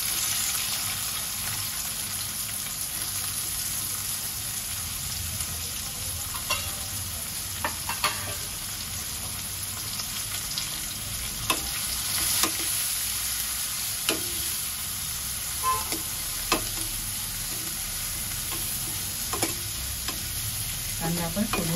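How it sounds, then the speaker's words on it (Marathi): Chopped onion fries in a pan with ajwain seeds in oil while a spoon stirs it, making a steady close sizzle with scattered scraping clicks and taps of the utensil against the pan, no voices. "कांदा आपण सोनेरी रंग होईपर्यंत जरा परतून घेऊया।"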